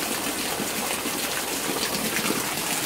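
Storm floodwater rushing and splashing in a steady, loud, broadband gush that holds the same level throughout, close by, with no talking.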